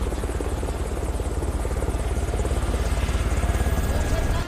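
Helicopter lifting off up close, its rotor chopping in a fast, steady pulse over a loud turbine whine that builds slightly throughout.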